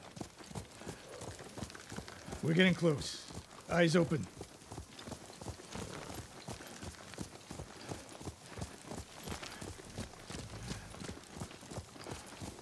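Horse hooves clip-clop in a steady walking rhythm through a Ghost of Tsushima game scene, with a couple of louder hoof hits early on and in-game voices talking over the hoofbeats.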